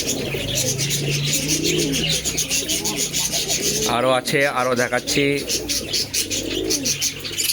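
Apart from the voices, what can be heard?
pigeons cooing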